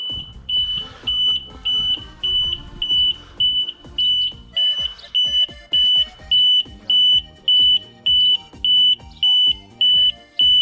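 Loud, sharp electronic beeps from an Ursus tractor's warning beeper repeating steadily in a fast regular pattern, with clunky knocks and rattles underneath.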